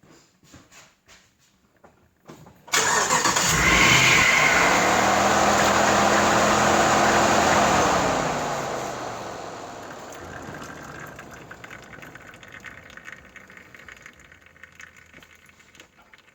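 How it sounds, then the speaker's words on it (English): A 2006 Dodge Ram 1500 with the 5.7 engine starts and idles loudly for several seconds while the power steering pump runs nearly dry and pumps fluid out, then the engine shuts off and the noise fades to a quiet background. "I'm gonna start the engine for a couple of seconds and let it pump out."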